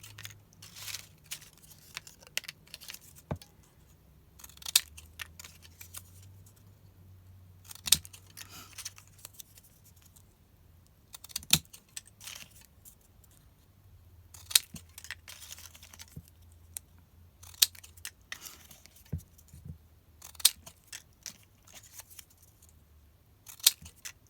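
Scissors snip through fabric flags in short, crisp cuts, repeated in irregular bursts with quiet pauses between, close and fairly faint against a soft background hum.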